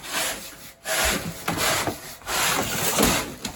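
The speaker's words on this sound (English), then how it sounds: "Take your piece of PVC pipe. Brush it a little bit." A piece of PVC pipe being brushed for chimney cleaning: repeated rough scraping strokes in an uneven rhythm, close and moderately loud, with no talking.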